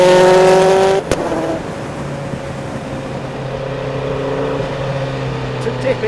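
A Bentley Speed 8 Le Mans-winning race car engine drones steadily at speed from inside the car, a sustained tonal roar that shifts pitch slightly, with a voice talking over it.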